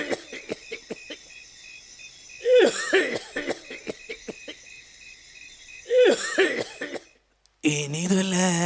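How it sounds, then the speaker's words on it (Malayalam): Repeated human coughing in loud bursts, two clear coughing fits separated by quieter stretches filled with a high, steady cricket-like chirp, ending with a sustained voiced sound. "അത് ശരിക്കും ചുമേനേട്ടാ."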